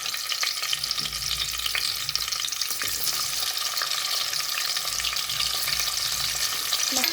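Tomatoes dropped into hot oil with crackling mustard seed tempering for a village-style bottle gourd curry, giving a steady, close, continuous sizzle and frying hiss with faint stirring scrapes throughout, no talking.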